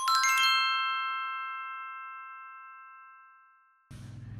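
A bright notification bell strikes once, close and clear, with a ringing tone that slowly fades over several seconds before a low noise begins at the end.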